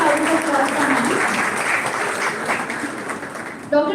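Audience applause welcoming Dr. Pranati Tirak, Vice President of Tilak Maharashtra Vidyapeeth, at a 2025 oath taking ceremony; steady dense clapping from a large crowd fills the hall for about four seconds, with faint voices underneath.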